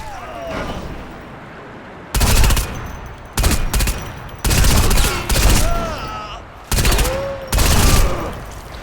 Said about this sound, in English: any of the other ones that flow down here, I'll take them out with the SMG